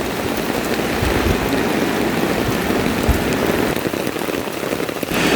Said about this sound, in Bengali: শব্দ হচ্ছে। বৃষ্টির শব্দ প্রকৃতির সকল সুরের সাথে মনে হয় যেন মিলেমিশে গেছে।